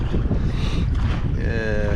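Loud wind roars and buffets the microphone over open water with waves, a constant rushing blast with a faint tonal whine near the end.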